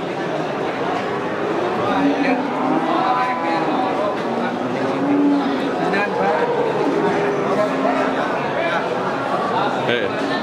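Madura cattle at a livestock market moo in drawn-out, fairly close calls repeated several times over a busy background of people talking and haggling.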